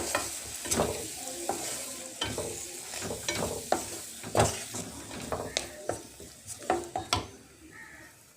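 Spices frying in a pan for an Assamese-style potato curry, a soft sizzle under frequent sharp scrapes and knocks of a spoon against the pan, close and irregular.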